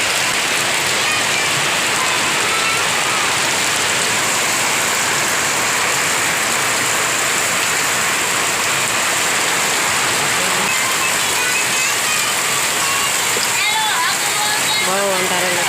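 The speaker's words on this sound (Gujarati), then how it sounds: "બહુ અંધારેલો છે વરસાદ" Heavy rain pours steadily across the whole stretch as a dense, loud, continuous hiss on surfaces, with a few faint sounds near the end.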